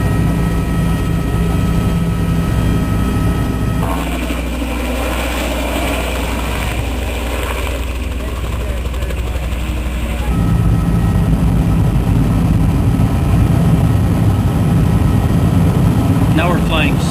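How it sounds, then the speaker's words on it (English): Helicopter engine and rotor drone steadily through a scenic flight over the Grand Canyon, loud and continuous with a constant low throb, while people talk over it. "my very first helicopter ride ever"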